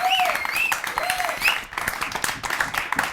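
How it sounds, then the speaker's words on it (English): Studio audience applause at a health television show taping, a steady wash of clapping with bright whistle-like tones rising over it, fairly loud and sustained throughout. "round of applause"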